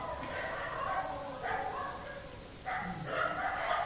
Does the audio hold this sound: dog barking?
yes